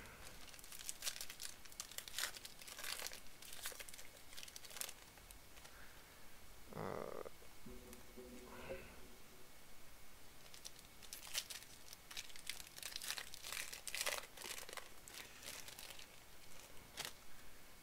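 The plastic wrapper on a trading card box crinkles and rustles up close as it is cut open with scissors, faint, with a short crunching burst in the middle.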